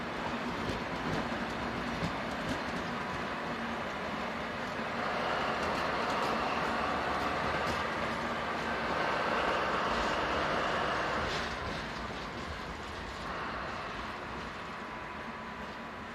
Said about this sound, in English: Sporting SBB Cargo's colours, XDR Class 203 number 203149 runs into the exchange sidings.